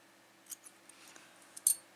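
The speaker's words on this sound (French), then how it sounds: "Je fais un petit nœud à l'arrière et je coupe mon fil à ras" Scissors snip yarn close to a small knot on a beginner's crocheted Kinder Surprise chick, giving a few faint, quiet clicks and one sharper cut near the end.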